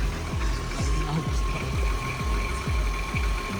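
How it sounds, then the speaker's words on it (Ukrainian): A Volkswagen T4 van's 2.8 VR6 engine idles with a low, even, rhythmic thrum, steady and fairly quiet, with no voices over it. "мотор тут шепче, реально"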